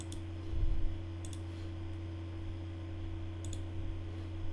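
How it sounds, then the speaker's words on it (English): Computer mouse double-clicked in Windows to extract a zip file: two quick faint click pairs, one near the start and another later, over a steady electrical hum. "just double click it to extract this zip file"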